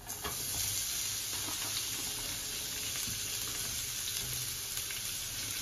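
Eggs fry in oil in a pan for egg bhuna, giving off a steady, dense sizzle that holds at an even level close up, with faint stirring scrapes and no talking.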